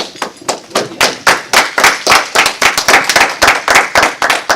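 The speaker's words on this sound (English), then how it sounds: "Give Almighty Yah a hand clap praise" Loud, close hand claps in a fast, steady rhythm, each sharp clap repeating evenly, like a worship congregation clapping along together in praise.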